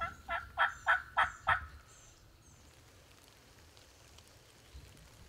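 Wild turkeys gobble in a field in the Carolina pines: a rapid run of about five loud, rhythmic gobbles in the first two seconds, then quiet outdoor ambience with no talking.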